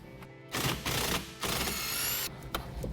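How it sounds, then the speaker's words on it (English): A 1965 Ford Mustang's steering wheel center bolt being removed, with loud rapid mechanical rattling in bursts, likely a power tool, broken by brief pauses. "and then remove the center bolt"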